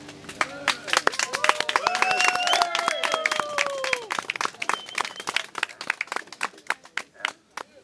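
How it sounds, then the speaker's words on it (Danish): Audience at the Tisvilde Billedfestival 2016 applauding to vote a painting into the final: dense, steady clapping from a crowd throughout, with a sustained tonal voice or whistle riding over it early on before the clapping thins and becomes more scattered. "Ja, det var godt nok et flot bifald."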